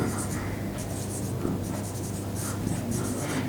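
Steady marker or chalk scratching on a board during a lesson on alternating current circuits, continuous and close, with a voice speaking over it.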